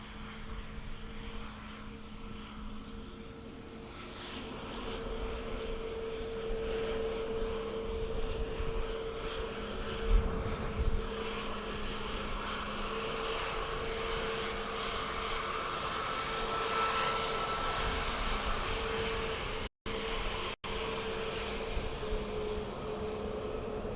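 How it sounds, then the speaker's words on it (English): An Airbus A330 airliner departs Dublin Airport for Chicago, a sustained engine drone with a steady tonal whine, fairly faint and distant, holding level across the clip with two brief dropouts near the end. "the 330 that was outbound, as Ado said, EIK off to Chicago"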